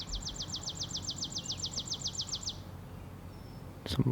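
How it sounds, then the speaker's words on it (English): A bird repeats a rapid, high chirping trill for a couple of seconds over a soft, steady outdoor hum, ending with a brief rustle. "Some loud-ass birds."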